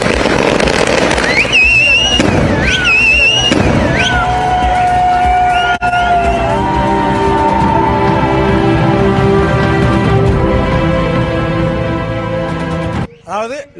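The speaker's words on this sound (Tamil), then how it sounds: "பட்டாசு வெடித்தும் நடனமாடியும் மக்கள் கொண்டாட்டம்" Firecrackers bursting at a village celebration over a cancelled tungsten mining auction: a dense, continuous crackle with whistling, pitch-sliding tones, loud and close, cutting off abruptly near the end.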